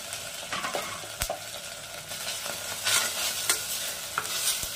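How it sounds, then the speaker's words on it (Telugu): Coconut being stirred and mixed into potato kurma in a hot pan, a steady frying sizzle under scraping spoon strokes with a few sharp clinks against the pan, close and fairly loud with no talking. "బాగా కలపాలి, కలిపేసి బంగాళదుంపలు వేసుకోవాలి."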